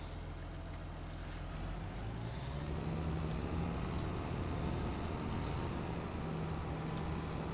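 A tractor engine drones steadily in Farming Simulator 25, a low, even hum with a faint tonal whine that stays constant throughout.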